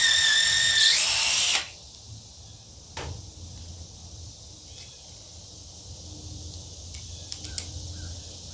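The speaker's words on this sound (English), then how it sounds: "I'm just going to screw it down with shorter screws" A power drill driving short screws into a wooden cabbage cage, one loud close whirring burst that stops abruptly, then a few faint clicks and knocks against quiet outdoor insect chirping.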